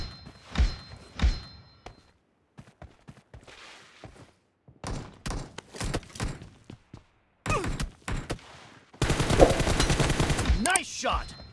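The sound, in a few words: gunfire in video game PUBG Mobile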